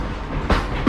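An 1880s-themed theme park train at Silver Dollar City in Branson, Missouri, heard as a steady rumbling roll with two sharp rail clacks, close and loud, and no voices over it.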